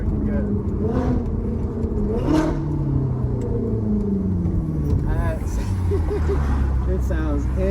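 A Ferrari F430 engine revs in rising and falling sweeps, loud and close, with a voice talking over it.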